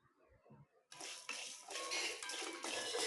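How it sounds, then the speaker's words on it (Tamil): Chana dal, urad dal and dried chillies go into hot oil in a kadai. The pan is quiet for a moment, then a loud, close sizzle bursts out and keeps going, crackling as it settles. "மிதமான தீயில் பொன்னிறமாக வர வரைக்கும் வறுத்துக்கலாம்."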